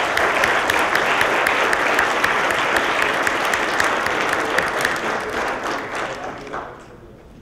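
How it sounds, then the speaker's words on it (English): A conference audience at a training event gives a sustained round of applause. The dense clapping stays loud and even for about six seconds, then thins and fades out. "Give yourselves a round of applause"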